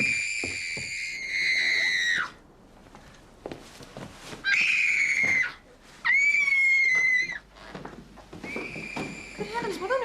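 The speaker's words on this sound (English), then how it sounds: "Marjorie, go upstairs and find out what all that screaming is about, will you?" Shrill, sustained high-pitched screams from people upstairs come in three long bursts, loud and piercing, separated by gaps of quieter rustling, footsteps and brief muffled sounds.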